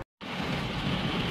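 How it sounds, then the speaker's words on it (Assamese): Heavy rain pouring down, a dense steady hiss and roar that starts abruptly after a brief silence and continues without letup, no talking. "কেনেকুৱা জোৰছে বৰষুণ দিছে"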